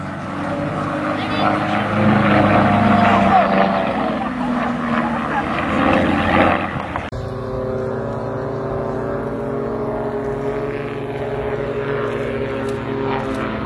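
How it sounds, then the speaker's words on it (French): Propeller aerobatic aircraft of the Patrouille Reva at an air show in Dijon performing a tail slide, its engine droning loudly, then cutting to a quieter, steadier hum, with commentary over it. "On monte verticalement, on coupe les gaz jusqu'à l'arrêt total de l'avion et on bascule vers l'avant."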